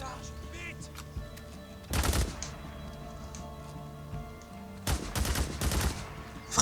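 Video game gunfire, two loud bursts of rapid shots a few seconds apart, separated by quieter game background sound.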